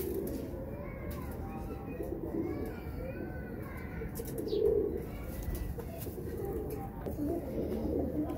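Large pigeons coo in soft repeated rolling calls close by, with a louder coo near the middle, while someone talks over them.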